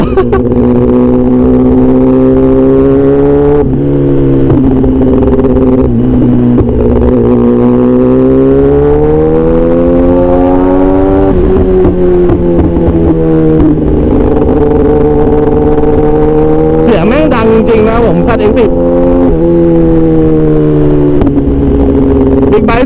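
A Kawasaki ZX-10R four-cylinder motorcycle roars loud and close without a break, its engine pitch rising and falling as the rider eases on and off the throttle, with a brief high whine near the end.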